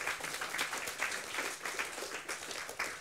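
Conference audience applause, a dense, even patter of many hands clapping throughout, moderately loud with no voices.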